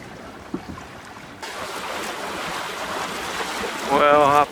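A sailboat makes way in good wind on Island Head Creek, with wind buffeting the microphone and water washing along the hull. The sound grows louder midway, and a voice briefly cuts in near the end.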